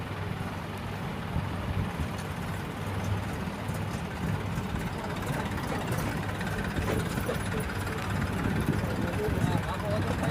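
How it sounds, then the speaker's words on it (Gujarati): A tractor runs in a neighbouring farm field, its engine giving a steady mid-to-low rumble that holds throughout, moderately close, with faint background noise. "આ બાજુની વાડીમાં જો ટ્રેક્ટર હાલે છે"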